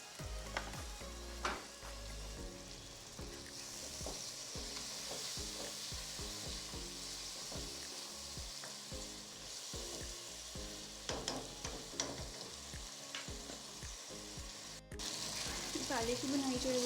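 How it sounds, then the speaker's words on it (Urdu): Masala spices frying in a pan with a splash of water for a tinda (round gourd) curry, a steady loud sizzle with repeated scraping and stirring strokes throughout. "3 سے 4 منٹ کے لیے ہم مسالہ جو ہے اس کو اچھے سے بھونیں گے"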